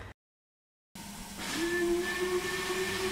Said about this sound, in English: a steady pattern of chuffing and puffing of three cylinders